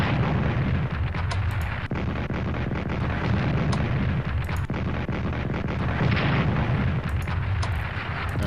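Artillery bombardment in the wartime strategy game Strategic Command, a dense, continuous rumble of explosions with repeated sharp blasts layered over a heavy low roar throughout.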